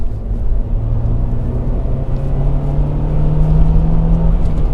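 Honda Civic Type R EP3 heard from inside during a rev-matched downshift, a loud close engine drone whose pitch holds steady and then climbs slightly, continuous for several seconds with no talking.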